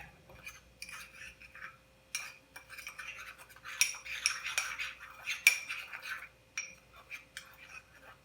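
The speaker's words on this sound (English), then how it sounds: "So now we're just going to mix up our seasoning." Seasoning for chicken wings being stirred in a bowl: quiet, irregular clinks and scrapes of a utensil against the dish, close by, with a faint voice now and then.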